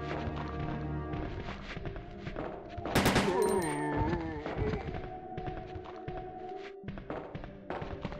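Gunfire in Resident Evil 2 (1998) crackles through a dense layer of game music and effects, with a louder cluster of shots around the middle of the clip.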